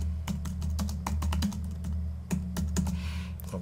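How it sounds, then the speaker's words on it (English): Rapid typing on a computer keyboard while entering a title in music notation software, with quick irregular key clicks close up and no one speaking. "change the title by double clicking, and then typing in Pop Goes the Weasel"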